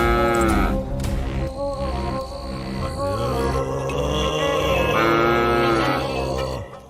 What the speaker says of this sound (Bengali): এ কি, এত রাতে গরু ডাকছে কোথায়?